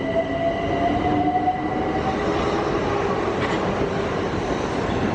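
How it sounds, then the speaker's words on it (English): A train rumbles past on the tracks near Clapham High Street in London, heading into Victoria, with a steady roar, faint wheel squeal and metallic clatter, fairly close and continuous. "they are the trains running into Victoria"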